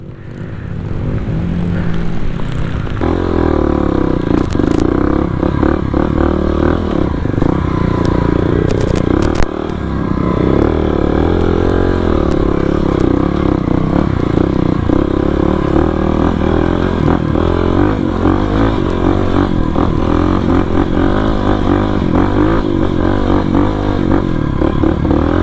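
A supermoto motorcycle is ridden up a slope on a beach trip, its engine revving loud and close with a continuous buzzing drone that holds throughout, alongside scattered clattering and scraping.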